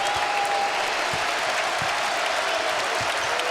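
A basketball arena crowd at a Big Ten men's game, Ohio State at Wisconsin, rises and cheers in a loud, steady roar of applause and shouting that holds unbroken throughout.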